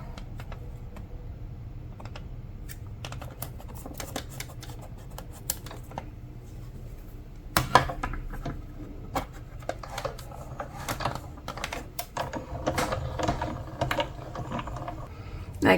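A hand crank turns a card-cutting die machine, giving a soft, steady grinding hum with a string of small clicks and ratcheting taps that grow busier partway through, close and fairly quiet.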